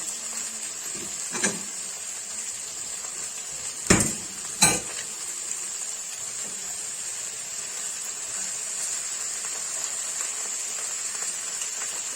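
Food sears, sizzling quietly and steadily in a pot, with a couple of brief clinks of a utensil partway through.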